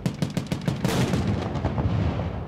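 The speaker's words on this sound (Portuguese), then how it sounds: "O alvo está no céu e começam os disparos." Rapid heavy fire from a 40 mm anti-aircraft cannon and .50 calibre machine gun, a quick series of booming shots in close succession followed by a rolling, echoing rumble, loud and nearby.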